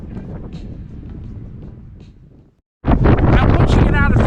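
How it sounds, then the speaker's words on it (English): Gusty wind on an open hilltop above a village buffets the microphone in a low rumble, briefly dropping out before roaring back louder. "It's very windy up here because obviously we're now above the level of the village."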